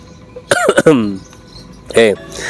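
A man with a hoarse, sore throat coughs in windy weather: a close, loud burst of several rough voiced coughs, then a shorter second bout after a pause.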